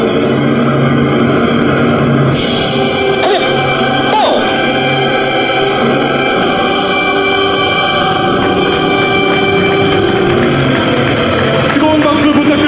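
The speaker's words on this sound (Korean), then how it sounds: "여러분 정면에서부터 웨지 브레이크 기동입니다." Black Eagles aerobatic jets perform a wedge break maneuver at an Armed Forces Day airshow, their loud, continuous roar with shifting whining tones filling the air beneath a public-address announcement.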